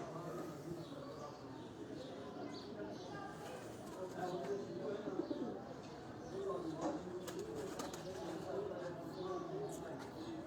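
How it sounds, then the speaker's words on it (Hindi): Caged pigeons at a dera in Rawalpindi coo softly and repeatedly against a busy, rustling background. A voice murmurs faintly among them. "इस खुले में भी मुख्तलिफ़ किस्म के जो हैं वो कबूतर हैं"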